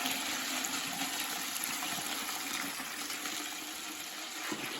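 Tap water pours steadily over carp bait seeds in a container, a close, continuous rushing splash that runs for several seconds with no voices.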